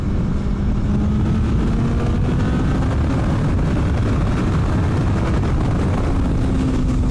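Kawasaki ZX14R motorcycle accelerating hard through a single gear from about 80 up past 130 mph, a loud steady engine roar with slowly rising pitch, heavy wind rush underneath, continuous for the whole stretch.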